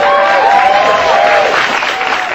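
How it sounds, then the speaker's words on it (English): A television studio audience on a late-night comedy show breaks into loud, sustained applause mixed with cheering and whoops, a dense, continuous crowd roar without pauses. "Norm Macdonald got more applause than America."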